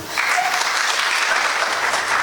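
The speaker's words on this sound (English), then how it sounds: "So let's appreciate her with a big round of applause" Audience applause at a school felicitation ceremony as a class 12 commerce topper receives her award, a dense steady wash of many hands clapping throughout, loud and continuous with no talk.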